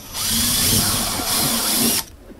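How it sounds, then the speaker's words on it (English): A power drill whirs in a continuous high-pitched run for about two seconds while installing an attic ladder, briefly dipping in speed midway, then stops. "No, I have to re-drill now"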